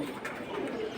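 Pigeons cooing in a loft of fancy breeds such as Silver Bezi, Jhuma Pankhi and Military pigeons, a soft low murmur close by over steady background noise.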